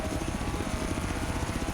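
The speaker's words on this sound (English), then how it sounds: "the helicopter pilot struggling to avoid the houses" A helicopter flies overhead in Forza Horizon 3, a steady, loud rotor thrum with a dense low beating and broadband whoosh that holds for under two seconds.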